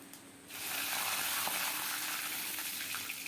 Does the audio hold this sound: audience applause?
no